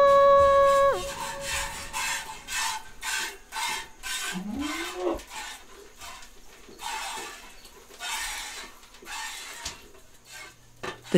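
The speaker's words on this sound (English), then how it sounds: "The sound you're hearing is milk hitting the pail." Goat's milk squirting into a pail during morning hand milking on a Vermont farm in early August, heard as a run of short rhythmic rasping spurts, close and fairly quiet, with a few metallic clinks and no talking.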